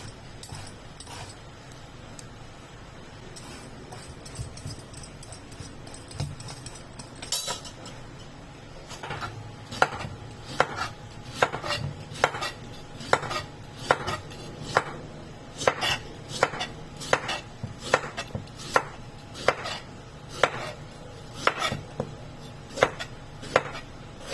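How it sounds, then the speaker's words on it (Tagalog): Carrots being peeled for a Chinese-style black chicken soup: after a quieter, muffled start, a steady run of crisp, evenly spaced strokes sounds up close, roughly one per second, with no talking. "So, magbabalat na tayo ng carrots."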